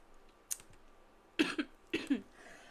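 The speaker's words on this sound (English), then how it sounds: "Excuse my cough." Two short coughs close to the microphone, a second apart, each a quick double burst, with a faint click just before them in an otherwise quiet room.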